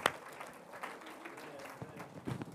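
Church audience applauding the camera technician at a service, a soft, fairly distant patter of clapping with a sharper burst at the start, low in level.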